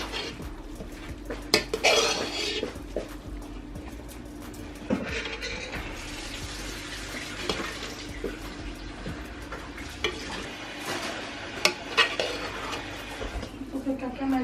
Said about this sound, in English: Okay, now we're gonna mix it all. More folding motions.